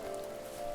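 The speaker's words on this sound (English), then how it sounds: "The rain cascaded onto the jade valley where the entrance to the tree was." Steady rain falls over a jade-green valley, a soft, continuous patter with a faint tonal hum running beneath, no voices present.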